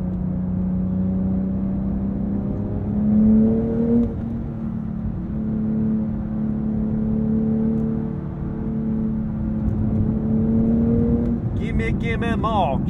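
A 2023 Porsche 911 Sport Classic's engine hums from the cabin while driving, with a steady drone that swells and eases through gear changes, and a voice briefly enters near the end.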